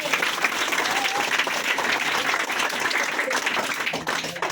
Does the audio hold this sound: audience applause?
yes